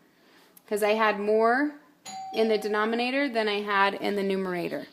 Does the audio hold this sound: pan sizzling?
no